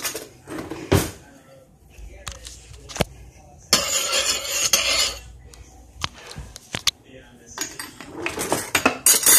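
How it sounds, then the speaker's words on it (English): Butter is stirred into pasta in a pan with bursts of scraping and clattering utensil on cookware, irregular and close, separated by short quiet gaps. "Now let's stir it all in for one final time."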